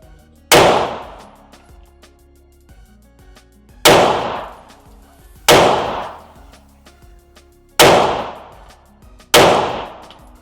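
Five loud, sharp gunshots from a Springfield Prodigy pistol ring out at a range, each with a long decaying echo, spaced a second or more apart in an uneven rhythm.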